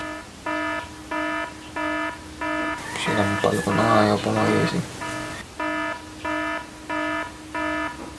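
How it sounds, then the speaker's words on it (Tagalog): A mobile phone alarm rings loudly in a room, repeating short bursts of electronic beeps at an even rhythm, while someone speaks over it partway through. "Kaingay-ingay ng alarm tapos di ka magigising."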